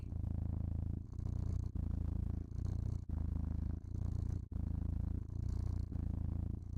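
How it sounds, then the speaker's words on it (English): Steady, low rumbling purr from a cat very close by, rising and falling with each breath in a continuous rhythmic cycle. "My cat came into my room and is now laying on me and purring."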